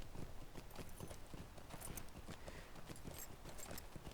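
Horse hooves in a video game gallop in a quick, steady clip-clop rhythm, moderately close and continuous for a few seconds.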